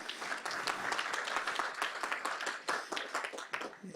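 An audience at a fireside chat event gives a round of applause, a lively patter of many clapping hands, fairly close and sustained, with individual claps popping out of the steady wash.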